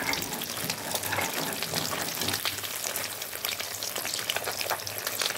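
Hilsa fish fries lightly in hot oil in a wok, giving a dense, continuous close-up sizzle and spatter with occasional stirring scrapes and no talking.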